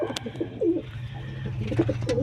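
Pigeon cooing close by, a white-eyed female dove giving soft repeated low coos over faint background noise.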